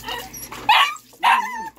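A dog being bathed gives two loud, close barks with a yelping, whimpering edge, separated by a short pause, over faint background noise.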